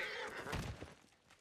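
Horse in the video game Ghost of Tsushima gives a short, faint whinny followed by a couple of soft hoof thuds that fade away quickly.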